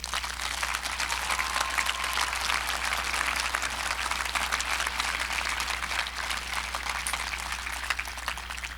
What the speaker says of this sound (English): how about a round of applause for these special individuals?